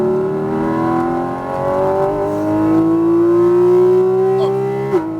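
A Porsche 718 Cayman GT4 RS accelerates hard on a track, its engine note climbing steadily in pitch through a long pull before a brief break near the end; loud and close, heard from inside the car.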